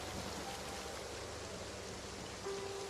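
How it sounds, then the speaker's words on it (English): Steady rain falls all over a wilderness survival camp on a cold day, a soft, even hiss of drops that holds at a constant, fairly faint level throughout with no voices. "Because right now it's just raining all over the place."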